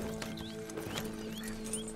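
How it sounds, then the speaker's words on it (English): Horse hooves clip-clop in the video game Red Dead Redemption 2, a quick steady rhythm of close, moderate hoofbeats over a low game music drone. "Mount your horse."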